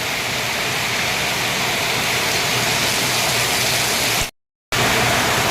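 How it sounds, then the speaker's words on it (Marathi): Heavy rain pours in a dense, loud, steady roar, broken by a brief moment of silence before resuming. "आता पाऊस खूप जोराचा चालू झालेला आहे"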